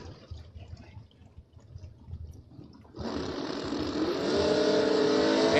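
Drag race cars launching down a bracket racing strip, a low rumbling idle that bursts abruptly into a loud, sustained roar of engines accelerating away, heard alone without voices.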